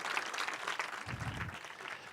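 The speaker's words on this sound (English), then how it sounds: "Please give them a big round of applause for this, eh?" Audience applause at a Municipal Council of Manzini event during an Eswatini sustainable urban development seminar, a short, faint burst of clapping heard from a distance that runs steadily for about two seconds.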